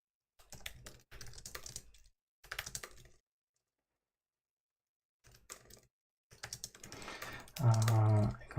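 Bursts of rapid clicking keystrokes on a computer keyboard, separated by pauses, ending with a louder low thump.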